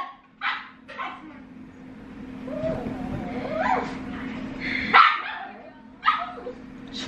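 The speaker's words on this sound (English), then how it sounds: "My darn dog." A dog barks in a handful of sharp, close yaps spread across several seconds, with whiny yips between them and someone talking intermittently.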